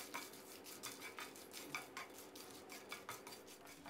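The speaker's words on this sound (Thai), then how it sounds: "คั่วพริกของเราให้สุกเลยครับ" Dried chilies, whole and cut into pieces, being dry-roasted in a pan, with a utensil scraping and clinking against the metal in quick repeated strokes under faint steady background noise; no voices.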